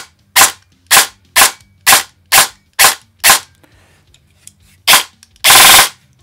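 Airsoft M4 replica built on a Mancraft CNC receiver with a V2 gearbox, firing a string of sharp, evenly spaced near shots, then one short full-auto burst at the end, with almost no talk.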